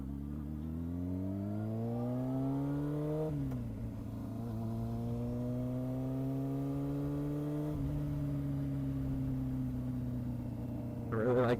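A Honda CBR motorcycle engine revs steadily with a smooth, rising growl, easing off and building again in long, even pulls close by, with a brief louder burst at the end.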